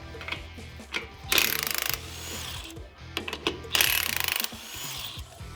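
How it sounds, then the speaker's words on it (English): A hand ratchet working the two nuts off the bottom of a 2021-2022 Ford Bronco strut during a Superlift lift-kit install, close and clear: two loud bursts of rapid clicking, each about half a second long, set among shorter clicks and clanks of metal. "pull off these 2 nuts for the bottom of the strut"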